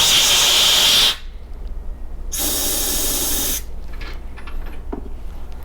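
Compressed air blasts to dry freshly cleaned Honda carburetor parts, two loud, harsh hissing bursts of about a second each, separated by a short pause with faint clinks and handling noise.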